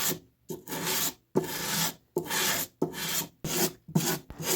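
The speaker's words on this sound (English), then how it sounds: "start sanding the bevel of the knife by pushing it across the sandpaper" A handmade knife's blade bevel is pushed across sandpaper in repeated long rasping strokes, about seven close, loud scrapes separated by short pauses.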